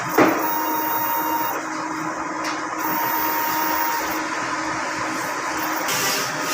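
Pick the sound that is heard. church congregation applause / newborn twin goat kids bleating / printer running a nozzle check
printer running a nozzle check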